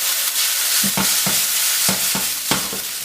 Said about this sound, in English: My wok is super hot again. So this time, I'm going to put in my noodles.